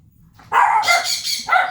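Dogs bark in a quick run of several sharp, loud barks close by, with a short pause before a final bark and no talk.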